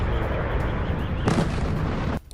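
A Russian missile explosion in Kyiv, heard as a loud, rumbling blast with a sharp burst partway through and then a sudden cutoff, with no voices.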